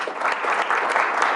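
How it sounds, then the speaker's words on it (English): Indoor audience giving a round of applause for an honored guest at a ceremony, a steady, dense wash of clapping hands sustained from start to end without pause. "Let's again give Mr. Smith a round of applause."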